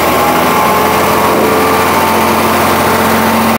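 A crane's engine runs steadily at raised revs, a constant droning hum with a whiny overtone holding level throughout, with no talk.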